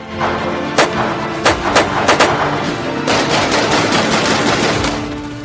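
Gunfire outside a businessman's house in Rohini, Delhi, a rapid series of sharp cracking shots, some in quick bursts, over a constant background rumble.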